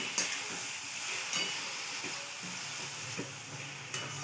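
A fresh grated coconut mixture for ladoo fries in a pan, giving a steady close sizzle and hiss with occasional soft scrapes of stirring.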